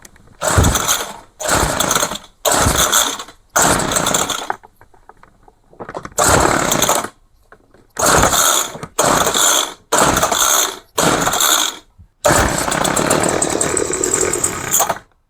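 A trash-found two-stroke hedge trimmer engine is pull-started over and over: about nine loud, separate bursts of whirring recoil-starter rattle, each lasting roughly a second, with brief pauses between and a longer final pull.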